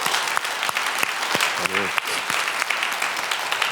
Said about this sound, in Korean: 이쯤에서 하나님께 영광의 박수 한번 돌립시다.